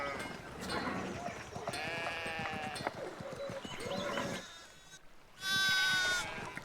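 Several sheep bleat in overlapping, wavering calls in the video game Pentiment, with a loud close bleat near the end after a short pause.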